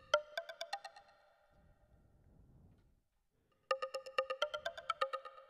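Bright plucked notes from a Zebra 2 synth patch, now with added reverb and delays, ring out in a rapid phrase, fade into a washy tail and silence, then return as a denser, louder run of repeating notes.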